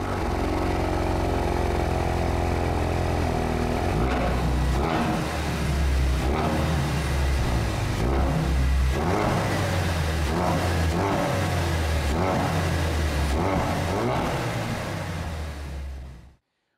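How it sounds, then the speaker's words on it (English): A 2023 Toyota GR Corolla Circuit Edition's engine and exhaust drone under load, a loud, muffled, continuous rumble with rising and falling revs that swells repeatedly before cutting off abruptly at the end. "the first thing you should do is maybe upgrade the exhaust, because this doesn't sound as nearly as good as the Focus RS"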